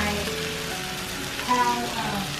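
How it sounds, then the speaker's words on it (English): Beef and bell pepper stir-frying in a pan for black pepper beef, a steady close sizzle with faint scraping throughout. "stir fry this, gotta have some bell pepper. And let the meat cook until it's kind of caramelized"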